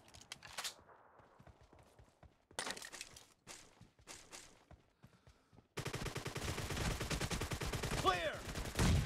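Suppressed M762 rifle fire in a team deathmatch shooter game: several short bursts of muffled shots separated by gaps, followed by a denser, louder stretch of rapid gunfire and battle noise.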